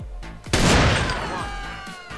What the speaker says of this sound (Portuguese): Quando você atira em alguém